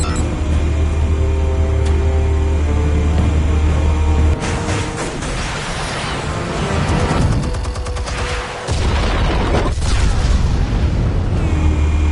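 Explosions in the Batman Telltale Series game, a heavy booming blast followed by rumbling debris and a second burst of crackling detonations, loud and close over a low droning score.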